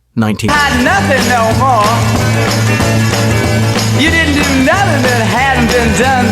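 A 1960s garage rock song plays loudly and continuously with a steady band groove, and a singer's voice runs over it.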